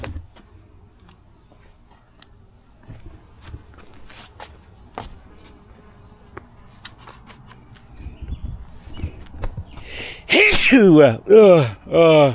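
Soft shuffling and scattered ticks and taps build up during a beehive inspection, then a loud, close sneeze bursts out near the end, followed by another burst.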